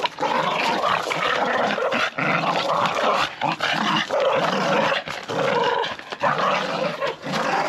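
Dogs bark and growl aggressively in a workshop yard, loud and close, a dense run of snarling bursts and barks that keeps going almost without pause.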